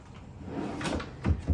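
A closet drawer slides open in a home walk-in closet with a short rumbling scrape, ending in a couple of soft knocks close by.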